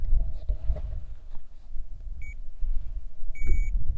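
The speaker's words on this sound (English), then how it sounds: "I heard a beep." An old listening bench at St Benet's Abbey gives two short electronic beeps, separated by about a second, over outdoor wind rumble and background noise.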